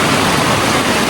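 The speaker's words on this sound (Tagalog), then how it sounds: "dito sa Davao umuulan. Kaya namnamin natin yung ulan." Rain falling in Davao, a steady dense hiss filling the whole moment, loud and close with no break or voices.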